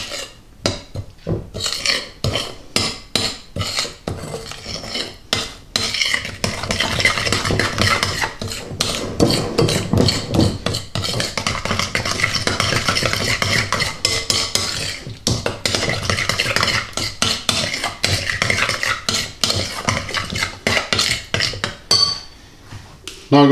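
Tandoori masala spice mix being worked into chicken pieces in a bowl: sustained, rhythmic scraping and rubbing strokes, loud and close, with brief pauses between bursts of mixing.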